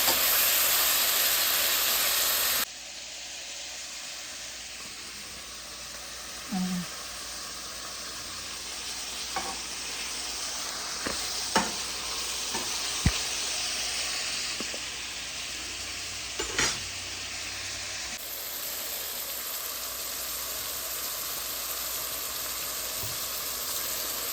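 Tomatoes fry in ghee and groundnut oil for a ghee sambar, making a soft, continuous hiss and sizzle with a few scattered clinks and stirring knocks from the pan, and no voices.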